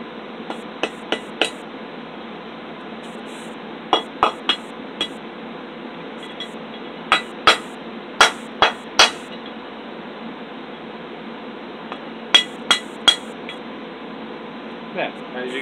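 Sharp hammer blows ring out as metal is straightened over a wood block at a forge, in quick bursts of three or four strikes, with pauses between them, over a low steady hum.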